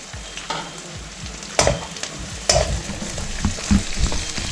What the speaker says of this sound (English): Fry them for 2-3 minutes.